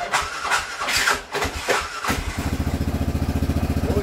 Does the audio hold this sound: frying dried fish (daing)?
no